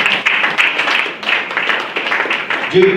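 Applause from a church congregation during a sermon on marriage, a steady, fairly loud patter of many hands clapping that carries on throughout and stays continuous.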